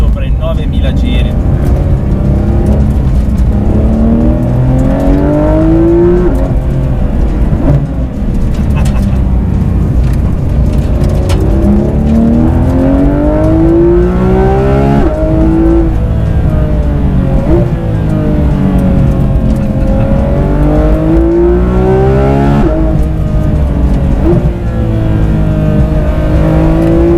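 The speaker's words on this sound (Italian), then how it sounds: "un motore così progressivo che tira fin sopra i 9000 giri" A 2019 Porsche 991 GT3 RS with a 520-horsepower naturally aspirated engine revving past 9000 rpm, loud and close, rising through the gears in repeated climbing sweeps with brief dips at each shift, with someone talking over it.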